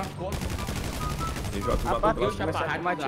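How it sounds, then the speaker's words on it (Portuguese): Gunfire in the video game GTA V, a rapid stream of shots at moderate loudness mixed with players talking over it. "Tem alguém atirando em mim"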